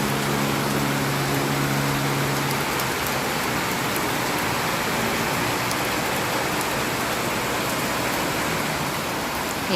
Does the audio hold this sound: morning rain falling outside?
yes